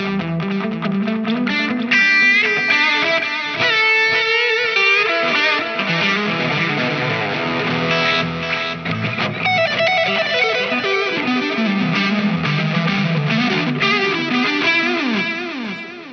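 Electric guitar played through a BOSS Tube Amp Expander Core with delay, a continuous melodic phrase with repeating echoes trailing each note, loud and sustained with no talking.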